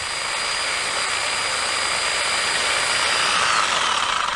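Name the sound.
powered hedge trimmer cutting a hedge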